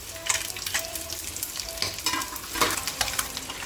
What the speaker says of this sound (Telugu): ఇందులో ఎగ్స్ని ఫ్రై చేసుకుందాం.